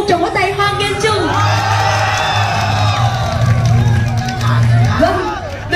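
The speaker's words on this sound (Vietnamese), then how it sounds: "Một tràng pháo tay hoan nghênh chung." A crowd at the opening of a lion dance festival claps and cheers in a continuous, loud mix of applause, whoops and shouting, with children's voices and general chatter throughout.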